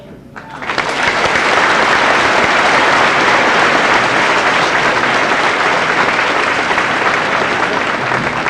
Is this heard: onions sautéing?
no